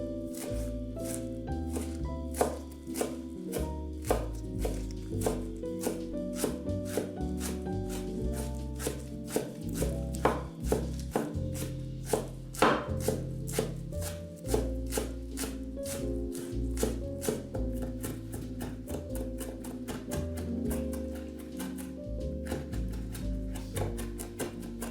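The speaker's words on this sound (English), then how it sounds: "Chop them finely." Fresh basil leaves being finely chopped with a knife on a board, a long run of rapid, even taps that speed up toward the end, close and crisp over soft background music.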